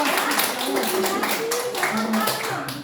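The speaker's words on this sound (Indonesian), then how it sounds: "Berikan tepuk tangan untuk Suciati" Students in a classroom applaud a classmate after her question, a brisk scattered clapping from many hands nearby, with voices talking through it.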